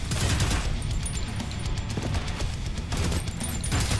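Sustained rapid submachine gun fire in the first-person shooter game Prodeus, dense rattling bursts over heavy low-end rumble, loud and continuous with a brief dip midway.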